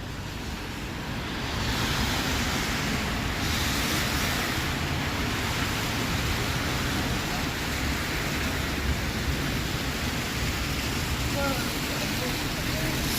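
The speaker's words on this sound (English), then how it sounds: "there's still precipitation coming down. It's like little ice pellets, sleet maybe." Ice pellets or sleet fall on a downtown Toronto street during a winter storm, making a dense steady hiss and patter, with a voice speaking briefly in places.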